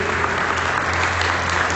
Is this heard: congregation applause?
yes